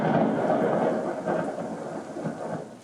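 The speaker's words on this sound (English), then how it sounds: "Only the rolling storm remains" A rolling thunderstorm, a steady low rumble of distant thunder over rain that swells and fades softly throughout, with no voices.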